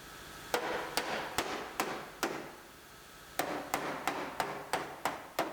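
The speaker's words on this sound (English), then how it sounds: "Now we can break all the welds loose." Welds on a rebuilt Terrain's car body are broken loose to free the wheelhouse, heard as a series of sharp metallic hammer-like strikes, roughly a dozen in two bursts with a short pause between, close and distinct.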